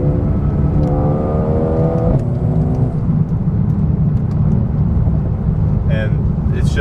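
A 2020 Mercedes A35 AMG driven on narrow back roads, its engine droning steadily up close with a rising rev, then a few sharp exhaust pops and crackles breaking through near the end while a person talks over it.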